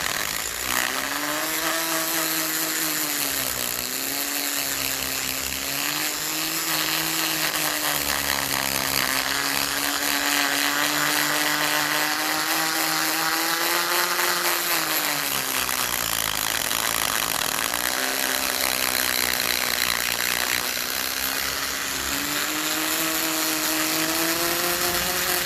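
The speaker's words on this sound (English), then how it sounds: "this little grinding head is ideal for taking all that rust out of there" A Dremel grinding head scours rust out of a bushing bore on a 1957 Ferguson 35 TVO tractor, a steady close whine with pitch dipping and rising as pressure shifts, running continuously throughout.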